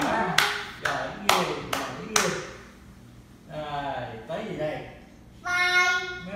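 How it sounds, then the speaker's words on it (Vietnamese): Five sharp, distinct hand claps land about half a second apart, close and crisp, at a home celebration for a two-year-old. Adults speak and cheer in between and after the claps. "Vỗ tay lên, vỗ tay lên cho nó khoái."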